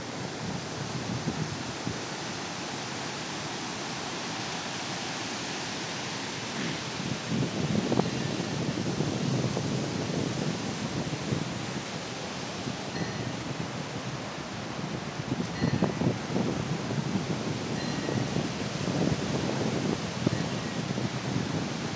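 Randha Falls sends up a steady broadband roar of falling water, constant and fairly loud, with no voices.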